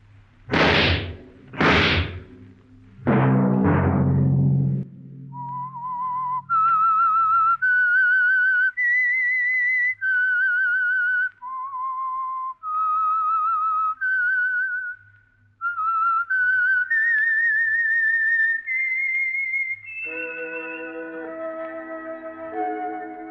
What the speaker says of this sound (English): Let that whistle be your signal for the Whistler each Sunday night at this same time.